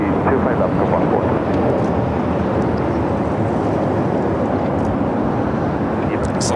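A Boeing 747-8 Intercontinental lands on runway 25 left at LAX with a loud, steady, broadband jet roar that holds throughout, dense in the low end, while talk carries over it.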